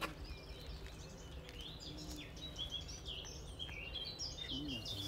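Great tit song mixed with other birds chirping in a garden woodland: thin, repeated calls and tweets, fairly faint and distant, over a steady low outdoor background with no voices.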